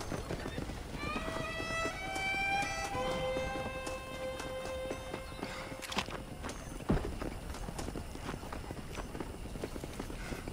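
Horse hooves clip-clop in the video game Red Dead Redemption. Soft, moderately close hoof beats sit under a voice that talks almost throughout, with a brief tonal sound near the start.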